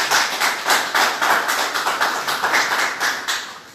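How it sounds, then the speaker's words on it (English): At a Unity Party National Youth Congress gathering, the audience claps in a steady, regular rhythm, a string of evenly spaced hand-claps carrying on for several seconds at moderate loudness. "we have to give them a hand of applause for that"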